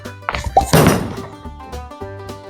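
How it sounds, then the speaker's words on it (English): A bowling ball strikes string pins, giving a sharp thunk followed by scattered clattering and a few lighter clanks that fade within a couple of seconds. "They sound like normal pins with the occasional extra clanking."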